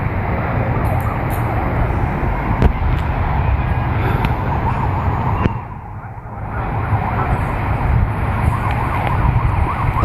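Police car sirens approaching after a police shooting, a loud, continuous wailing siren over traffic noise that dips briefly before returning at full strength.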